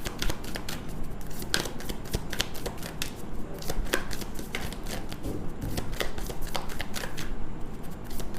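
Tarot cards are shuffled close up: quick, continuous riffling and flicking clicks that keep going for several seconds in an uneven rhythm, with no talking.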